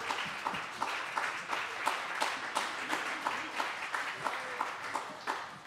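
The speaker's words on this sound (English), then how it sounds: "Let's give them another round of applause." A modest concert audience at an open-air jazz quintet show claps in a loose, moderately quiet round, individual claps audible as the applause gently rises and fades.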